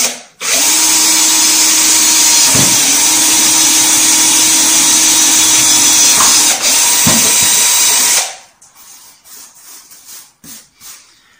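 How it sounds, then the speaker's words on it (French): A power drill bores a starter hole in the corner of a cut-out for a cat flap so a saw blade can enter, a loud steady whine lasting about eight seconds, then stopping into a few faint knocks. "il faut percer au coin, à l'un des coins pour pouvoir rentrer la lame de la scie."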